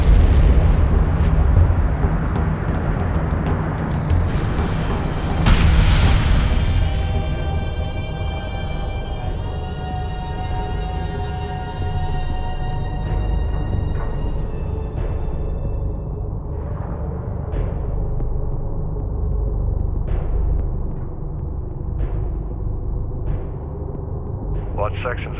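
Airstrike in the real-time strategy game Homeworld: Deserts of Kharak, with a heavy booming blast early on and further rumbling detonations and pops over a constant low drone of battle noise, with voices heard intermittently.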